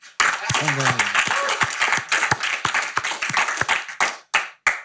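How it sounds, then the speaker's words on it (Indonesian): An audience claps for a guest named Bosman on a talk show, a fairly close burst of rapid clapping that thins to a few separate claps at the end, with people talking over it. "tepuk tangan buat Bosman"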